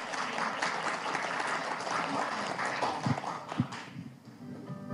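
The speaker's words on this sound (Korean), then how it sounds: "박수로 시장님 앞으로 모시도록 할게요" An audience at a Seoul village community award ceremony claps to welcome Mayor Park Won-soon to the front, with a dense, rumbling patter of hands and a few sharper claps standing out.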